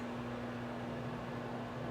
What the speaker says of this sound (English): I'm sitting under this dryer